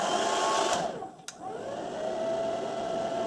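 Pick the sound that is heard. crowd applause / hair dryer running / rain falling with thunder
hair dryer running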